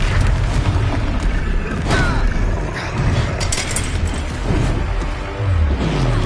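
A Confringo blasting spell explodes during a Hogwarts Legacy boss fight, a dense, continuous rumble of booms and crackling bursts that stays loud throughout with little pause.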